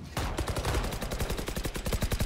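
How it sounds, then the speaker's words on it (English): Rapid exchange of gunfire in a Valorant match, dense bursts of repeated shots firing in quick rhythm throughout, loud and close with no talking. "Shots exchanged."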